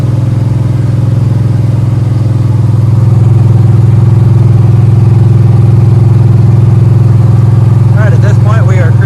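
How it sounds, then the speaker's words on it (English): A carbureted car engine with a four-barrel carburetor runs steadily while cruising in third gear, a loud, constant droning hum from inside the car with no pauses. "at this point we are cruising in third gear. Go ahead and hit the 4-barrel and watch the RPM climb."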